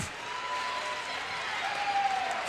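A basketball crowd at a girls' high school final roars steadily with applause and cheers during a timeout, a dense continuous wash of noise from the stands.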